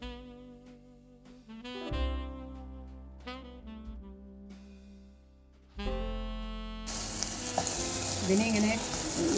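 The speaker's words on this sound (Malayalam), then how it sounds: "എണ്ണ ഒഴിച്ച ശേഷം ഇതെല്ലാം നന്നായി ഒന്ന് മിക്സ് ചെയ്ത് കൊടുക്കാം" Chillies sizzle in coconut oil as they are stirred in a pan. Tonal background music plays through the first part, and a loud, steady frying hiss takes over near the end.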